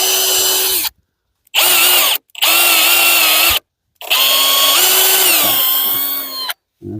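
A power drill boring into a timber post, running in four loud, steady bursts separated by short silent pauses, its whine holding a constant pitch and dipping slightly under load.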